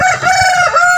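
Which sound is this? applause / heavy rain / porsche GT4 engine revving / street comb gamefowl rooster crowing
street comb gamefowl rooster crowing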